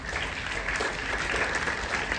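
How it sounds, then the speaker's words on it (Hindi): An audience of young women at a university event in a hall applauds with steady, dense clapping that holds at an even level throughout, with no distinct voices. "और ये तालियां लड़कियां अपने लिए बजा रही हैं।"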